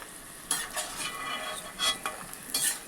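Peanuts fry in oil for maize poha chivda, a soft, fairly faint sizzle broken by scraping stirs of a spoon through the pan, no voices.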